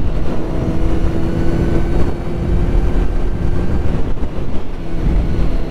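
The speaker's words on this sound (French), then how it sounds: "Rouler sur un 4 cylindres avec une petite cartouche, c'est pas énormément bruyant" Continuous four-cylinder roadster motorcycle engine drone with a small exhaust blended with rushing wind while riding, steady and fairly loud throughout with no voices.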